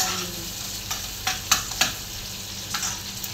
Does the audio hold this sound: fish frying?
yes